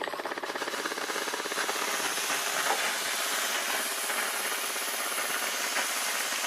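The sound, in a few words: Vax steam mop nozzle releasing steam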